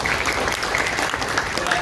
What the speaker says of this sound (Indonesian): Tepuk kita.